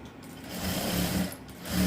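A sewing machine runs a continuous stitch along a blouse frill, with a steady close mechanical whir that swells slightly in loudness.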